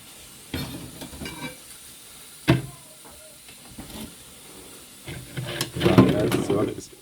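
A pot of boiled roots in a backyard is stirred in scattered bursts of scraping and clatter with a soft hiss, as a person talks in between.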